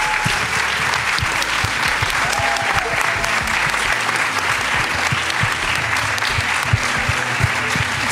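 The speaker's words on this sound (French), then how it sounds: "Applaudissez l'impératrice." Dense, steady audience applause fills the whole stretch at an even level, a big room of clapping hands with no talking over it.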